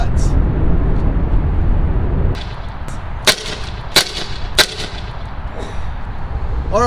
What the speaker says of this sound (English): I'm gonna fire a few more headshots.